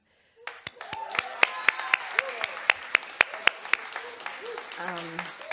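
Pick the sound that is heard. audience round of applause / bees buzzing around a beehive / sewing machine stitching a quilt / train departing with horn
audience round of applause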